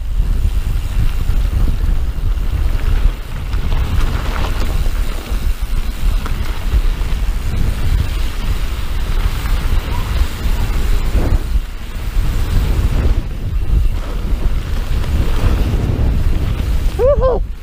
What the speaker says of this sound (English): Oh, fucking wind.